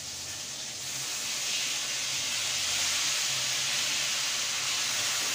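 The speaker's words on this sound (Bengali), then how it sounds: "হয়ে যাচ্ছে বেগুন ভাজাটা" Eggplant slices frying in a pan in a home kitchen give a steady, close hiss of oil sizzling that swells slightly after the first second and holds even, with no talk over it.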